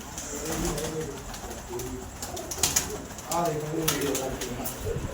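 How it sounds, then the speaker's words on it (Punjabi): Hobby pigeons of a fancy fourteen-feather breed coo in soft, repeated rolling phrases close by, mixed with occasional wing flutters, while someone talks over them at moderate volume. "ਕਬੂਤਰ ਨੇ"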